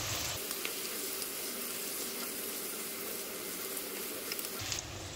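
Mixed vegetables fry in a pan, carrots, beans and cabbage going in, with a steady soft sizzle and faint crackle close by, a brief clatter at the start and end.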